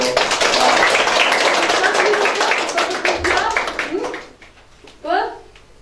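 Brief classroom applause for a student, a burst of hand clapping under a teacher's voice, fading out after a few seconds into quieter room sounds.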